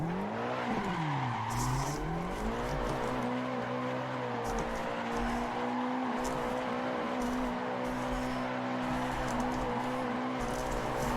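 A car drifting in Assetto Corsa: the engine drone rises and falls early on, then holds steady while the tires squeal continuously, loud and close, with no voices.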